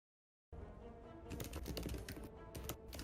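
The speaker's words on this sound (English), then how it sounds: "I hear typing, but not voicing." Keyboard typing comes through after a short silence, a quick, uneven run of close, crisp key clicks that stays steady and moderately loud to the end, with no voices.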